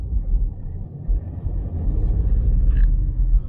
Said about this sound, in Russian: она едет как литровая трехцилиндровая машина, звучит как литровая трехцилиндровая машина